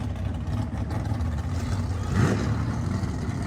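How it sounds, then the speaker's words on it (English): A loud Mopar car engine rumbles and revs at a car meet among Hellcats and Challengers, a deep continuous roar that swells briefly in the middle. "I'm trying not to talk when the car is being so loud."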